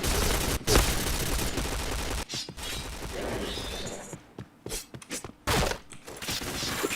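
Video game shooter gunfire in rapid bursts and volleys, loud and close, with sharp automatic fire and short gaps between the salvos.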